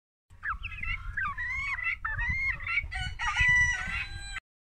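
Chickens in a backyard coop give a run of loud, close, warbling squawks and crowing-like calls one after another, over rustling and shuffling noise.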